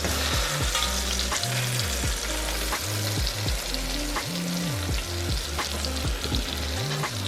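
A beef roast sizzles in a hot pan, a loud, steady frying crackle that runs throughout, with faint tonal sounds weaving underneath and no talking.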